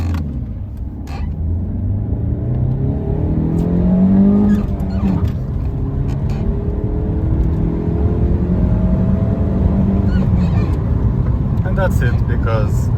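An Alfa Romeo 147 engine revs and pulls up through the gears, rising and dropping in pitch, while people talk inside the cabin over the steady road rumble on a UK road.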